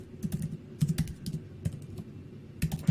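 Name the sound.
typing on a computer keyboard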